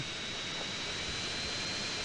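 A fighter jet in GTA San Andreas Mobile flies with a steady, loud engine roar that holds evenly throughout, with no talking.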